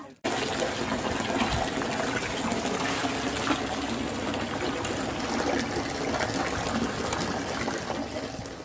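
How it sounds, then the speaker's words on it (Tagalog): Free-flowing water gushes steadily from a rural water system in Bicol, a loud, constant close-up rush that starts abruptly and holds without pause. "ang agos ng tubig o buhos ng tubig"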